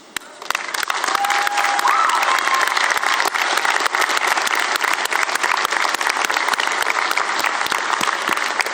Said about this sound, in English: Face your parents, and I'm going to ask you to give them the ovation that they deserve this evening.